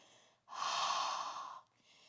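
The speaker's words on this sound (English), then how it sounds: "Ujjayi breathing. A little narrowing in the airway, like you're fogging a mirror" One long ujjayi yoga breath drawn through the nose with a slightly narrowed throat, a soft airy rushing hiss lasting about a second, quiet and close, alone without talk.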